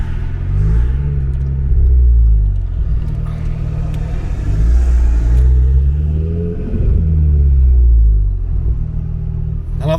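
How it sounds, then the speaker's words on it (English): A manual Audi S3 accelerates uphill, its engine and intake note droning and rising through repeated revs with a deep, steady rumble inside the car. "I love the subtle intake sound."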